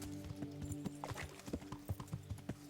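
Horse hooves clip-clopping at a walk in the medieval game Kingdom Come: Deliverance, an even rhythm of soft thuds with faint tack jingle, quiet and fairly close, no talking.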